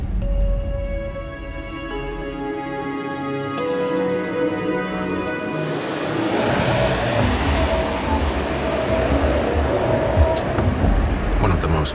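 A United Airlines Boeing 747 on Flight 811 readies for takeoff, its engines a steady droning whine that swells into a broad, rushing roar, with a voice talking over it.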